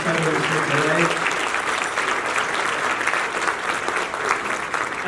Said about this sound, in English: give a big round of applause to our Congressman Kurt Schrader